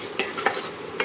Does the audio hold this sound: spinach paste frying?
yes